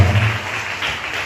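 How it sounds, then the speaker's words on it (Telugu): A congregation at a Sunday church worship service claps together, loud steady applause that fills the whole short moment. "చప్పట్లు కొట్టి దేవుడికి"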